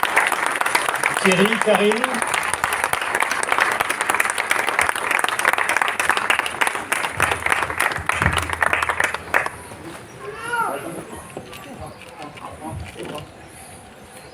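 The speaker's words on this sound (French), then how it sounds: "On peut les applaudir" Loud, sustained audience applause fills a rally of electric-vehicle enthusiasts at the Grotte des Premiers Français, dense clapping for about nine seconds before it drops away and voices take over.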